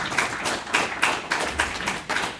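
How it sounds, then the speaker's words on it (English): A small conference audience gives a panelist scattered applause, a handful of distinct claps falling in a loose, uneven rhythm and fading toward the end. "Please give him a warm applause."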